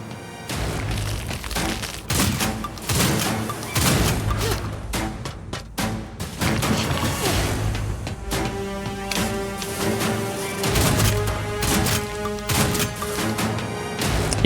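Repeated gunshots and heavy impacts in the video game Terminator 2D, irregular loud bangs and crashes layered over a steady game soundtrack, with no speech.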